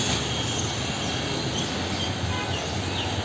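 A metro rail train in Dhaka rumbles past nearby with a steady, dense roar of wheels on track and a faint high squeal riding above it, sustained throughout the moment.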